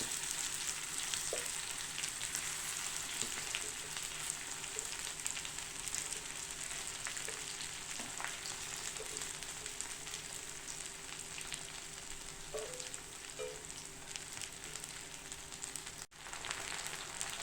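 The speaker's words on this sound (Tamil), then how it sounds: "இதில் நம்ம எடுத்து வச்சுருக்கிற சிக்கனை போட்டுக்கலாம்" Chicken pieces for a roast fry in oil in a pan with ginger and garlic, giving a steady close sizzle that continues throughout with faint occasional clicks and no talking.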